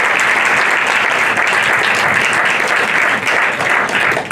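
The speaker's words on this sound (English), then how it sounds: "how about a round of applause for making of this film?" A film festival audience applauds in a sustained, dense round that stays loud and steady throughout, with no voices rising above it, after an on-stage conversation with a film's cast.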